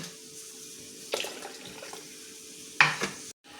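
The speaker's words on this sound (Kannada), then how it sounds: "ನೀರು ಆ್ಯಡ್ ಮಾಡ್ಬೋದು" Water pours into a kitchen mixture while cooking in two short splashing bursts over a quiet background, the second louder and closer, before the sound stops abruptly.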